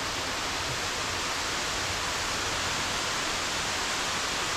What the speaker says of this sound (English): The waterfall is right over there, and we're going to be rappelling down beside it.